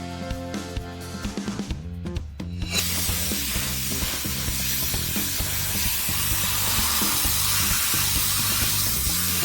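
Shower water sprays in a steady, loud hiss while a cat is bathed in a bathtub, starting after a few seconds and continuing over background music.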